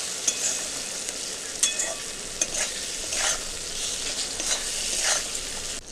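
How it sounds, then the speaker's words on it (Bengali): Ground turmeric, cumin and coriander fry in a pan while a spoon stirs them, giving a soft continuous sizzle punctuated by scraping strokes every second or so. "ভালো করে নেড়ে নেব।"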